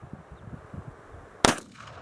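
A single sharp shot from a CVA Mountain Rifle, a .50 caliber muzzleloader, fired outdoors; one loud close blast follows quiet background rumble, then decays with a brief echo.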